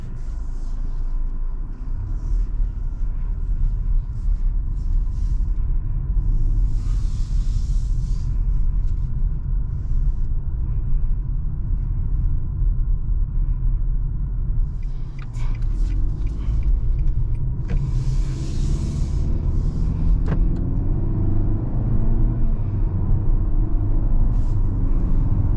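Cabin road noise inside a 2022 Nissan Altima S while driving: a steady low rumble of tires and engine, with faint brief hisses and clicks over it and no talking.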